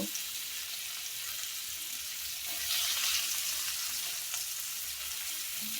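Chopped onions sizzle in hot oil in a pan for a baim fish curry, a steady close bright frying hiss with occasional stirring swells.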